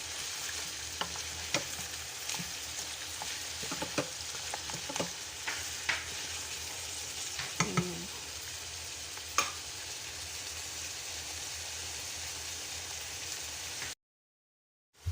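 Meat for kabsa fries in a pan with a steady sizzle. A utensil scrapes and stirs it several times, with sharper clinks here and there. The sizzle cuts off abruptly near the end.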